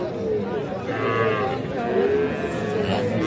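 A bull calf at a cattle market gives a couple of short moos amid the general hubbub, with people talking nearby.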